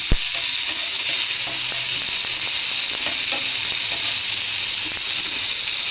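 Onions for a fish curry fry in a pan with a loud, steady sizzling hiss, punctuated by scattered scraping and stirring clicks close by.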